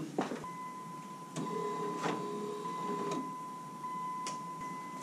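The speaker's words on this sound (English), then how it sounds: "The wiper's actually moved." A windshield wiper motor on a Dodge pickup runs with a steady mechanical whir and a few sharp clicks, close by and alone.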